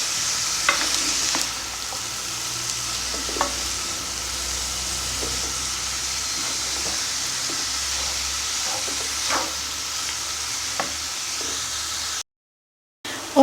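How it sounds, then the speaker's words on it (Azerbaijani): Borscht ingredients being stirred and fried in a pot, a steady sizzling hiss throughout with scattered soft scraping taps of the spoon, close and fairly loud, no talking. "Bunları hamısını yaxşı qarışdırıb biraz pişiririk."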